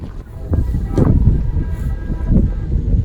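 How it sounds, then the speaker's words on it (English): A loud, steady rumble of a train leaving a station in Northern Ontario, with rolling mechanical noise and faint higher squeals over the low roar, heard from nearby. "That is the sound of the train leaving"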